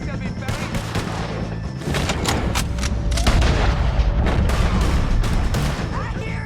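Dense, loud gunfire rattles through a Red Dead Redemption 2 shootout against O'Driscoll gang members, with rapid overlapping shots and booms over a low rumble, and voices shouting beneath it.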